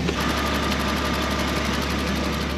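A BMW E46 Touring's engine runs at a steady idle close by, a continuous loud mechanical hum with a fine rhythmic ticking and vibration throughout, no voices over it.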